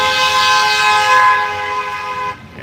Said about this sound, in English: He has the nerve to honk.